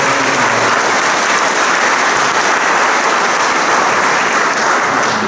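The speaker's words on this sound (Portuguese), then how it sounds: "vamos dar uma salva de palmas" Sustained, steady applause from a church congregation at a Catholic golden wedding anniversary Mass in a sanctuary, filling the whole stretch at full strength with no talking.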